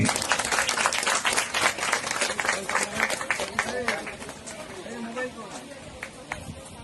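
Applause at a felicitation ceremony with flower bouquets, many people clapping in a brisk mixed patter under crowd chatter and talk, tapering off toward the end.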